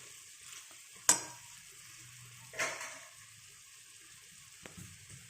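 Chickpea curry being stirred in a pan, with a low simmering hiss underneath and a few distinct scrapes and knocks of a spoon against the pan, close, with no talk.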